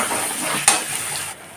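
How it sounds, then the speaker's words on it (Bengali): Spice paste sizzles in hot oil as it is stir-fried for Bengali aloo potol rasa, a steady close frying hiss with one sharp clink of a utensil partway through. "এই তেলেই মশলাটাকে দিয়ে কষে নেব।"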